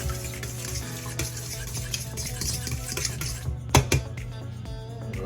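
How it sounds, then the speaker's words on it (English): Two eggs whisked quickly in a bowl, a fast continuous clatter of whisk against the bowl, with a couple of louder knocks near the end. "We're just gonna give it a quick little whisk."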